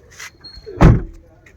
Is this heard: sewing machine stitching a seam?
no